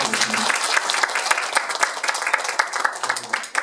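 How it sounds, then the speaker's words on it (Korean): Applause rises from the audience at the close of a Korean seminar, a brisk, dense patter of many hands clapping continuously at moderate loudness, with a brief hint of a voice near the start. "최은진 교수님 다시 한번 박수 부탁드리겠습니다"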